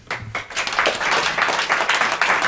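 Applause from a live audience for two folk singers after a song, brisk clapping that swells quickly and holds steady.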